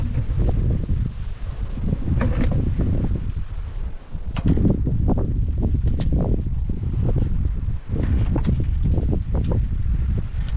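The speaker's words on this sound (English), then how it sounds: "It's a little windy." Strong outdoor wind buffets the microphone almost without pause, a loud low rumble with gusting swells and brief dips around the middle and near the end.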